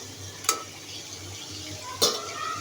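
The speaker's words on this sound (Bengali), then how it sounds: "অল্প ভেজে নেব তো মাছগুলি হালকা ভেজে নেবো" Prawns fry lightly in a pan with a quiet, steady sizzle, broken by two sharp utensil clinks against the pan, over a faint low hum.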